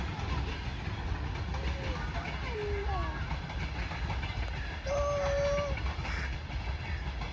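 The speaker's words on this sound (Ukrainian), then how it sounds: "Що там їде? Потяг!" A train rumbles past near a house, a steady low rolling noise throughout, with scattered bird chirps and faint tones on top and no clear talk.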